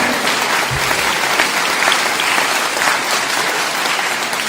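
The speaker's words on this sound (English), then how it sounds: "Come on, put your hands together for me." Loud, dense applause from a conference audience at a leadership summit, steady and sustained throughout with no talk over it.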